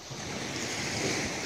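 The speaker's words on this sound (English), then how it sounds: "And if I just turn around, there's the sea." Sea waves break on Chaolao beach in Chanthaburi as a steady, full wash of surf that fills the whole moment, with some wind noise on the microphone and no voices.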